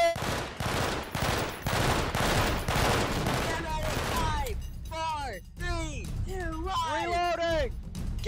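Rapid bursts of gunfire sound effects in a Christmas special skit, loud and dense at first, then sporadic shots mixed with voices imitating whistling, swooping projectile noises.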